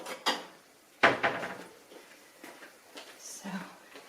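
A dish is taken out in a home kitchen during cookie baking, giving a few sharp ceramic clinks and knocks with quieter rattles after, close by and under light talk.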